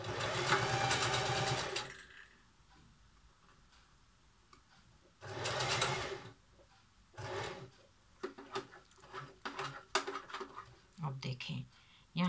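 Sewing machine stitching triangular fabric pieces into a cushion cover, in short loud bursts of running separated by pauses, with someone speaking Hindi-Urdu between and over the stitching.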